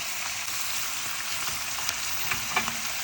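Pork searing in a pan for an easy one-pan dinner, a steady close sizzle and crackle of frying with small pops and the faint scrape of stirring throughout.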